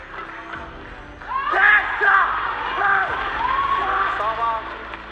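Several loud, strained shouts from a badminton player rise over a noisy crowd at a match against India, with excited cheering and yelling around them in a busy indoor arena.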